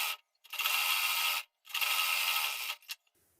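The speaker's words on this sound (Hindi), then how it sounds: "तो चलो यहाँ पर हम सिलाई लगा लेते हैं।" A sewing machine stitches a sleeve seam up close in two steady bursts of fast mechanical whirring and clatter, separated by a short pause, with no voices.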